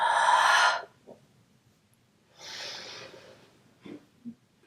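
Forceful exhales during a no-impact Pilates workout, a long loud breathy blast followed after a pause by a second softer, longer exhale and a few small breath puffs, close and alone without talk.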